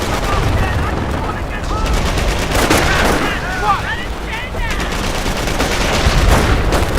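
Sustained automatic gunfire and booming blasts from a World War II battle in the strategy game Company of Heroes, loud and continuous throughout, with shouted voices mixed into the combat.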